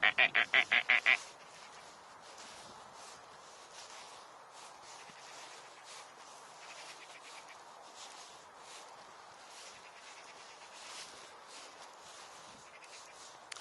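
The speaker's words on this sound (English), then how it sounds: "Can you hear that bird going?" An outdoor bird calls in a quick burst of about six loud, duck-like quacking notes, then gives way to a faint steady open-air background.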